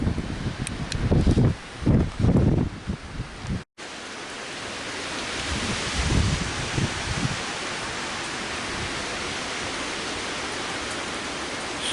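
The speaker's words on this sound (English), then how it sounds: "Still windy." Strong wind during a night storm with heavy rain, a steady broad roar and rush that fills the scene, with some louder thumps and gusts early on before a brief dropout.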